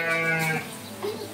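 A Garut sheep in a pen gives one clear, close bleat lasting about half a second. Quieter farm sounds follow it.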